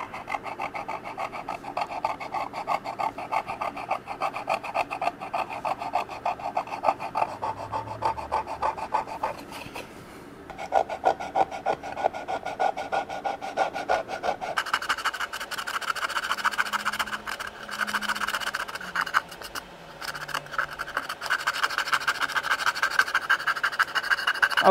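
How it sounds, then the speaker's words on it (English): A curved riffler file lightly rasps along carved wood edges in close, steady repeated strokes, with a brief pause near the middle before the rubbing resumes at a similar pace. "after I got the edges cleaned up with a riffler"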